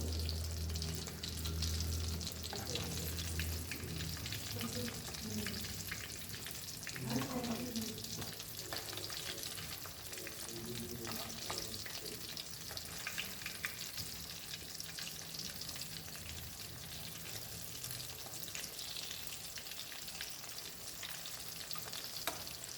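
Chicken deep-fries in hot oil, a continuous dense bubbling sizzle that holds steady for a long stretch, with a few clinks and shifting sounds early on as pieces are turned, fairly close and free of talk.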